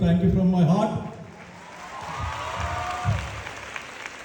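An audience at SB College claps in a brief, moderate burst of applause while a voice carries over the top.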